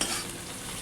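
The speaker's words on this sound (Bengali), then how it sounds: "পেঁয়াজগুলোকে ভালো করে ভাজা করে নেব" Onions fry in a pan with a steady, close sizzle and a faint stirring rustle, brief and without voices.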